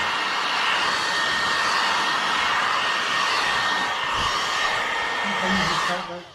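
A heat gun blows steadily at a window tint film edge on a truck side window, a loud continuous airy roar that cuts off at the end.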